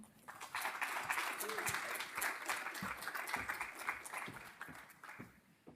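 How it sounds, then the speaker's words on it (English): An audience at a microbe kickoff event gives a round of applause to a cheese industry speaker, a steady spread of claps with a few voices mixed in, swelling quickly and easing off at the end. "Please give a round of applause for Mark Johnson."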